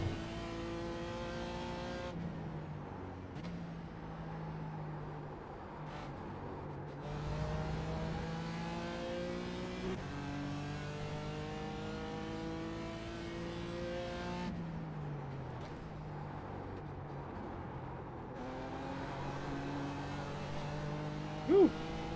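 BMW M4 GT4 race car at Watkins Glen, engine howling steadily as it climbs through the gears, with rising pitch sweeps, brief drops at shifts and a loud onboard drone throughout.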